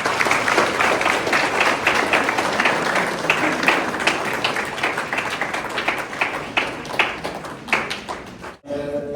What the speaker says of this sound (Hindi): ताली बजा के हम लोग स्वागत करें।